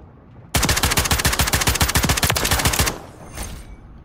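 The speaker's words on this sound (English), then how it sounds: "I got you with the shotgun" Rapid burst of video game gunfire, a long run of evenly spaced loud blasts lasting over two seconds, then a fainter trailing shot or echo.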